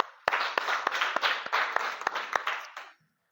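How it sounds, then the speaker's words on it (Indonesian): A classroom of pupils claps their hands together for about three seconds, a dense patter of near, moderately loud claps with a few sharper accents, ending abruptly into silence. "Baik, tepuk tangan dulu."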